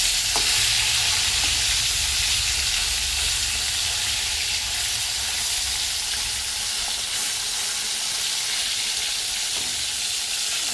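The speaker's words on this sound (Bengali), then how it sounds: "দেখো মাছটা ভাজা হয়ে গেছে।" Tilapia fish frying in hot oil in a home kitchen, giving a steady, loud, close sizzle that holds evenly throughout with no talking.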